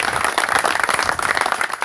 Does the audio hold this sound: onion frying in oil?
no